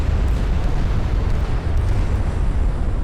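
A warship's flash fire explodes in the naval battle game Ultimate Admiral: Dreadnoughts, a loud, continuous, heavy roar with deep rumble that fills the whole stretch without letting up.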